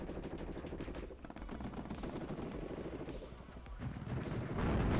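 Gunfire from Marder fire support in the WARNO strategy game, rapid repeated cannon and machine-gun bursts crackling continuously at moderate distance, growing denser toward the end.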